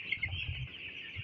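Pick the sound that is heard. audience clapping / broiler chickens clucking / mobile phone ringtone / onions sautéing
broiler chickens clucking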